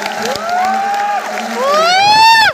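A crowd at a ceremony cheers and whoops, with rising and falling shouted voices, loud and close and building toward the end, with some clapping faintly beneath.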